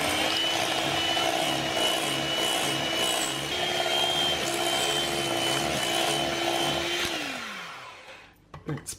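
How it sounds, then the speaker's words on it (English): Ricotta cheese is whisked in a bowl, making a fast, steady, rhythmic scraping close by. The whisking runs continuously, then stops near the end with a few light knocks. "we're going to whisk it until it's nice and smooth and creamy."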